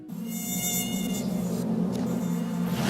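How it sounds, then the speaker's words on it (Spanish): A mosquito buzzes close by, a thin, steady high-pitched whine that wavers slightly in pitch throughout. "¿Mosquitos?"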